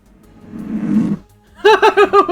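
A reversed fart sound effect with reverb: a rough, noisy swell builds up and cuts off abruptly, followed by a short run of bouncy, pulsing bursts.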